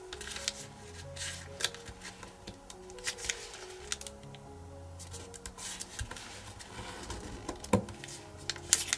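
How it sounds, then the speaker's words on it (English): Paper being folded and creased for an origami envelope, close crackling rustles and sharp crinkles continuing throughout, with a few louder snaps as the edge is pressed down. "fold this edge to the crease"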